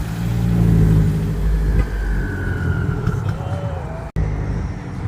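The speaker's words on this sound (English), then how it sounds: "Got a little Subaru STI coming in." A Subaru STI rolls into a JDM car meet, its engine note rising as it nears amid the steady hum of other cars, with faint crowd voices in the background.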